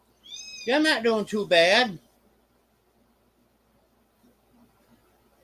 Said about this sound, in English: As some of you might hear a kitten in the background.